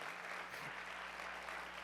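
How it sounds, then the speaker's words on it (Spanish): A church congregation claps together during a sermon, giving a continuous, fairly quiet wash of applause with a low steady hum underneath and no clear speech. "Dele palmas al Señor de la gloria."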